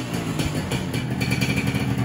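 Suzuki Katana motorcycle engine, a retro bike with original factory parts, idling and revving in a workshop, a steady loud mechanical thrum with uneven pulsing throughout.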